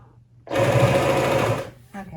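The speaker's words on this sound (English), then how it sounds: "this walking machine is going to come in really handy for me. I'm going to sew around the opening." A walking-foot sewing machine runs in one loud, steady whirring burst of just over a second while stitching around the opening of a fabric cat pod, followed by a brief quieter rustle.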